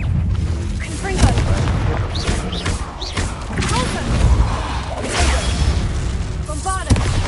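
Spell explosions in Hogwarts Legacy go off in repeated booming thuds, dense and continuous across the clip with sharp bursts standing out. A voice talks over them throughout.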